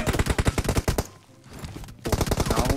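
Rapid bursts of automatic gunfire in the PUBG Mobile video game rattle in two stretches, with a short pause between them. The shots are loud and close.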